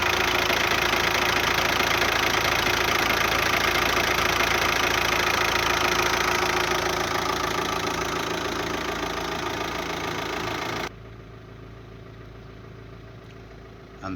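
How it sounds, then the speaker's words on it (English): A VW Touran engine idles with a newly fitted alternator, a steady close mechanical hum and whir that gradually quietens, then drops abruptly to a fainter idle for the last few seconds. "new alternator fitted, far less noise coming from the engine now"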